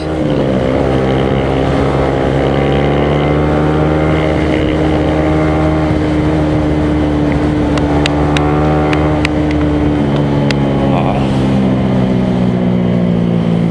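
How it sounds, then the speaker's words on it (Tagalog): A Yamaha NMAX scooter engine drones continuously and loudly up close while riding, its pitch shifting slightly, with a few sharp ticks partway through. "Malakas ang NMAX."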